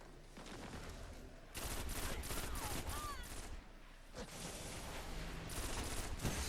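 Rapid gunfire from a PS4 shooter game, quiet bursts of shots with short gaps between them and faint background game sounds, with little talk.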